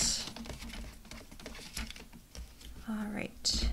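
Card stock cut along a score line with a blade, soft scraping and tapping close by, with a voice talking over it.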